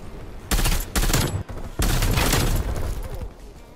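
Rapid M16 gunfire in Call of Duty: Cold War on the Nuketown map, with loud bursts of shots separated by short pauses and a longer sustained volley.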